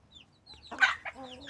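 A single chicken, newly arrived to join a flock, gives a short burst of clucks, fairly near and quiet against a calm background, with no talk.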